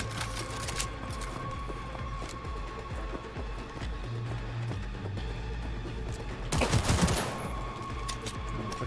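Gunfire in Cyberpunk 2077, with rapid shots in bursts over a busy game soundscape and a loud heavy volley near the end.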